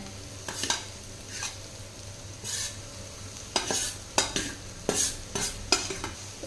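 A spatula lightly folds cooked seeraga samba rice into soya chunk fried rice in a hot pan. Soft scraping strokes come in quick bursts over a faint, steady sizzle, with no one speaking.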